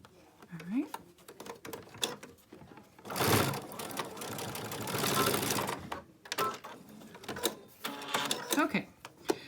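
A sewing machine stitches a child's 3D fabric face mask, with short bursts of fast mechanical whirring, one long run and a later burst, separated by someone talking and fabric handling.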